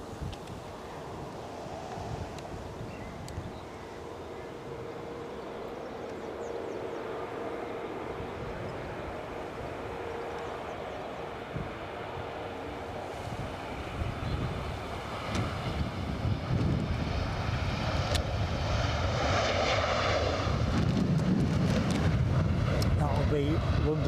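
A London City aircraft on approach to Edinburgh Airport on a windy day, a jet roar that swells slowly from faint to loud amid gusting wind noise, with commentators talking throughout.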